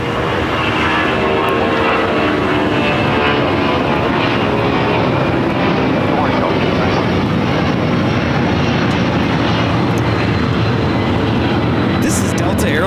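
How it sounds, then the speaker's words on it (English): A Delta Airlines Boeing 757-200 takes off at LAX with a loud, sustained broadband jet roar filling the whole stretch, while a voice talks faintly underneath. "This is Delta Airlines 631 taking off to Mexico City on the 757-200."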